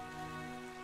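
Rain falls steadily in a scene from the video game Sword Art Online: Alicization Lycoris, a constant soft hiss that runs through the whole short moment beneath sustained musical tones.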